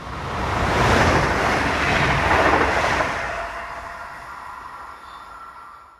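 A Class 425 passenger train rolls past on the rails, a broad loud rumble swelling quickly, holding for a few seconds with faint clatter, then fading into the distance.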